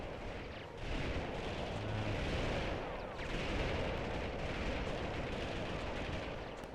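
A grenade blast in the Army Men 3D video game, rumbling through a dense, sustained wash of low booming noise that swells at about one second and again near three, with no voices over it.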